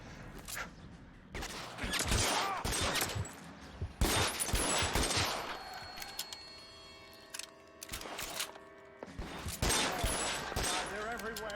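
Bursts of gunfire from L.A. Noire, several rapid volleys of shots with echoing reports in a loud, continuous firefight, broken by short lulls and game voices talking between the salvos.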